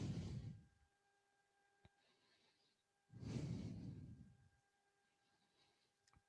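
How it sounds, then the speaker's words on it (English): Two slow, deep breaths during a yoga session, each a soft drawn-out exhale with a pause of quiet between, faint and close with a couple of small ticks. "Breathing."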